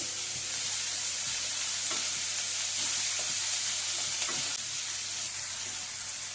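Chopped onions sizzle steadily in hot oil in a pan for capsicum masala, a continuous close frying hiss with occasional stirring scrapes.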